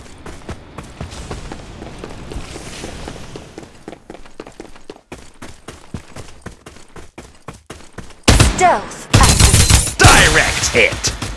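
Gunfire in the video game Farlight 84, a series of sharp rapid bursts and single shots against game sounds, with loud clustered firing near the end and a voice speaking at times.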